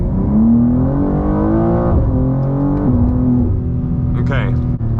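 A BMW G87 M2 with a flashed M2CS tune, held on launch control, revs loud and steady close up, its engine note rising and stepping as it pulls away in second gear.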